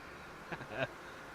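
Small aircraft in the air traffic control game Tower! 3D Pro gives off a faint, thin mosquito-like buzz that swells twice in under a second over a quiet background.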